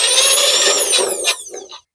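The drill motor of a Garvee drain cleaner machine runs with a loud, steady high-pitched whine, then winds down and stops after the push button is released, fading over a final half second.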